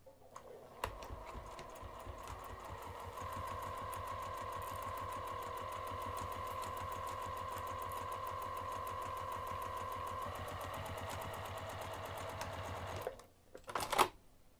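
A sewing machine stitches a half-inch seam through fabric for a craft bag, with a steady, close mechanical whirr and rapid needle rhythm for about twelve seconds, then stopping with a few brief clunks.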